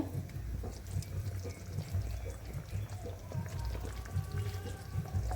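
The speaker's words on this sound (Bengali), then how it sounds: "দেখতেই পাচ্ছ ডিমের ঝোলটা ফুটে গেছে দেখো" Egg curry boiling in a pot: a continuous, dense bubbling and spattering of liquid, steady and close throughout with no speech over it.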